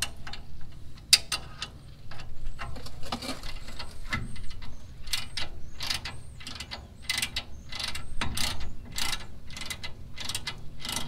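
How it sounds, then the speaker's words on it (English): A ratcheting wrench turns brake caliper bolts on a Sierra/Silverado rear caliper upgrade, giving a close series of quick clicking bursts with short pauses between strokes and a faint background hum. "we can switch over to like a ratcheting wrench, and that makes things"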